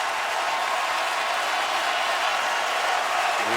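Football fans cheer and roar at the Outback Bowl, Iowa against LSU, as a steady, broad crowd din that stays loud and even throughout, with no single voice standing out.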